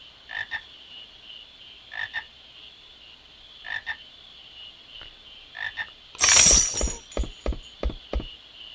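Frog croaks from Final Fantasy IX come in short paired bursts at a steady rhythm, then a loud clattering splash followed by a quick run of sharp croaks, all clear with no talking.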